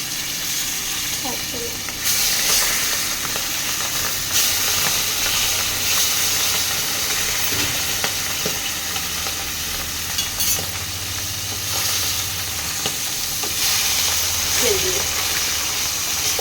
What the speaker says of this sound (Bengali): এগুলো আমি এরকম করে লাল লাল করে এই মাছগুলো ভেজে নেবো